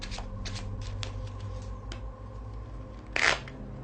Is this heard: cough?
no